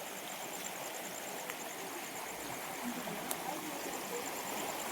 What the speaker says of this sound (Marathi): हा आमचा व्हाळ आहे आणि नदी खालती आहे